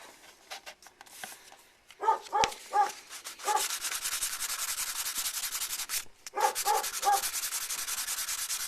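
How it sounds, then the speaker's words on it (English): Scribing tool scratching panel lines into putty on a Star Trek Enterprise scale model, giving a steady close-up rubbing and scraping with repeated short strokes and brief pauses. "Then I got to scribe all these little lines back in."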